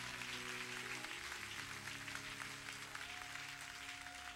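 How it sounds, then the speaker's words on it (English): Church congregation applauding in a large hall, a steady wash of many clapping hands at constant level throughout, with a faint sustained tone in the background. "So I think he deserves another hand clap"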